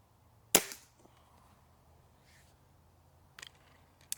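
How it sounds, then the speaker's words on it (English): A Remington Tyrant air rifle firing AEA pellets at a target gives one sharp, close crack, followed by a few faint clicks and knocks from handling the rifle. "we're just gonna drop down to that other target and put 5 in there and see where they're hitting"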